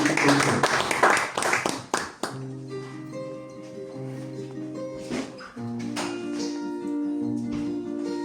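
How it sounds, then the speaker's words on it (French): Audience at a live acoustic concert claps and cheers in a brief burst of applause that fades out, followed by sustained guitar-like tones and a voice over the music. "Applaudissez-la très fort"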